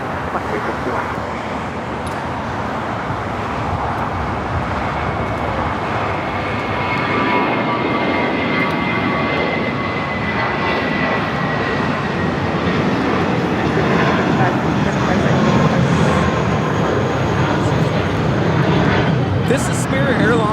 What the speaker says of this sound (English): This is Spirit Airlines 2567 taking off to Louisville on the A320.